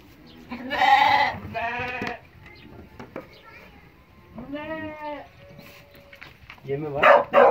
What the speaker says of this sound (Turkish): Koyunlar ve kuzular